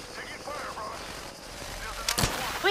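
Gunfire in Apex Legends, with a dense, steady bed of game noise and a few sharp bursts of shots near the end, the loudest clustered around the last second.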